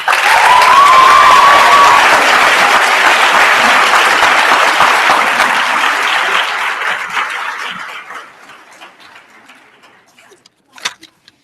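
Graduation ceremony audience at Tar River Academy's 2015 commencement gives a strong, dense round of applause that holds for several seconds, then tapers off into quiet with a few last claps.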